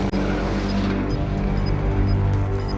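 A car in Call of Duty: Warzone drives steadily, engine drone loud and close for a few seconds with faint tire noise.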